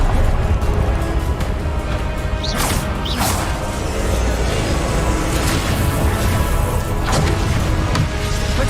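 A Confringo blasting spell detonates in the video game Hogwarts Legacy. Loud, continuous roaring blasts and crashes layer over one another with sharp whooshes cutting through a dense wall of game noise, and no voices.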